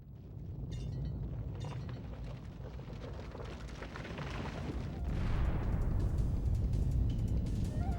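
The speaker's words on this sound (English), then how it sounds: "the castle is exploding and collapsing" A castle explodes and collapses in a Soul of the Samurai video game cutscene, heard as a dense continuous rumble of crashing debris that swells louder partway through and keeps roaring.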